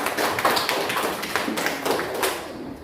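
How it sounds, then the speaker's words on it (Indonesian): Classroom applause for the last student group, a short burst of scattered claps from a small group of children, close and fairly loud, easing off toward the end. "Silakan berikan tepuk tangan buat kelompok terakhir atau kelompok 4 ya"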